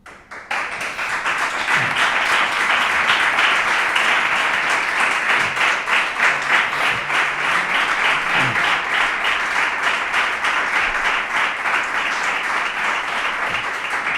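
An audience at a public talk about urban water and the Guadalquivir breaks into loud, sustained applause, dense rapid clapping close to the microphone that holds steady from a sudden start to the end, with no talking.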